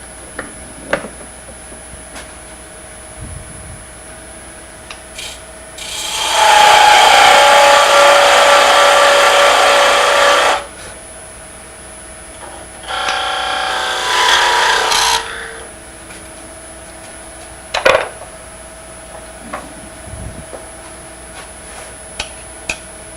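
A wood lathe turns a 1/4 inch tenon on a Christmas icicle ornament, giving two bursts of loud, close scraping and cutting, about four seconds and two seconds long, over a faint steady motor hum with light ticks and clicks.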